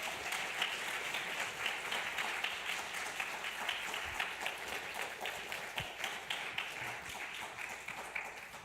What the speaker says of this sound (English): Can we get one more round of applause for our speaker?